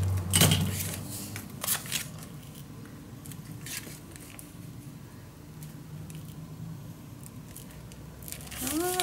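Scrapbook paper for a Christmas mini album being cut, with close crisp snips and rustles of paper, a sharp burst near the start and light handling noises after.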